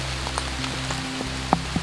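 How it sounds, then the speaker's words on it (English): Rain falls steadily outdoors in a broad marshy birding area as a dense, even hiss, with a few sharper drips tapping nearby and a low hum beneath. "So it is raining. I'm getting wet"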